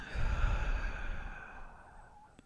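A long, slow exhale during a guided breathing exercise, soft and close, a breathy rush that gradually fades out.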